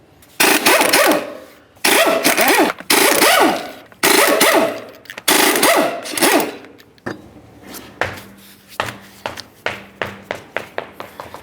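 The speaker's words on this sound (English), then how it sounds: "let's go ahead and remove all 5 of our 19mm lug nuts and then the wheel" A power impact wrench removes five 19mm lug nuts from a 2006-10 Ford Explorer wheel in loud, repeated bursts of rattling whirr, followed by a series of rapid tapping clicks.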